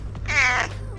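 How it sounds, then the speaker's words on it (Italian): A cat gives one close, loud, oddly wavering meow, drawn out and strained, against a low steady hum. "sto gatto c'ha un miagolio un pochettino strano"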